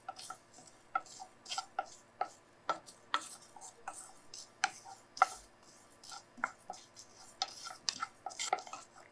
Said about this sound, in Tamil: இப்போ இது எல்லாம் சேர்த்து ஒரு வறுத்துடலாம்.